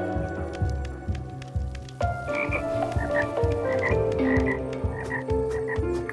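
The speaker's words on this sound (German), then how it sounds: "Da haben wir die zwei Frösche." Two frogs croak repeatedly in Toki Tori 2+, their rhythmic croaks joined by bright chiming game tones and a steady musical backdrop, with no talking.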